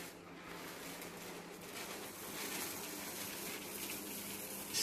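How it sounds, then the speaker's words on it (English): Rice Krispies cereal poured gently into a melted chocolate mixture makes a steady, soft, continuous rushing hiss that grows slightly louder near the end. "So we are gonna get our Rice Krispies and we're gonna gently pour it into our mixture."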